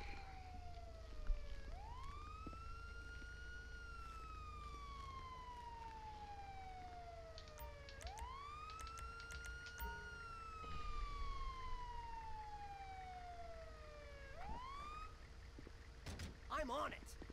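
Ambulance siren from the video game GTA V, played in a New Jersey State Police patrol mod: a rising and falling wail sweeps three times across the clip over a steady engine hum, fairly close, with brief clicks near the end.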